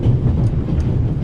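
A moving train rumbles steadily, with a loud, continuous low roll and faint rhythmic clatter.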